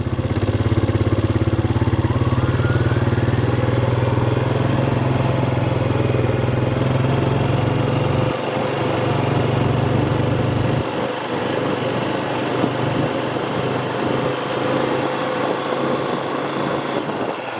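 Tractor engine on a homestead, a loud steady low drone running continuously, dropping in pitch and partly cutting out after about eight seconds, with rattling and clattering over it.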